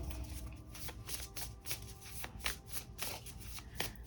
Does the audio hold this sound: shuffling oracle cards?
yes